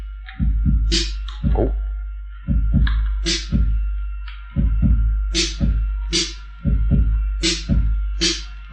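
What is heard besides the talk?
Roland drum machine beat with snare on 2 and 4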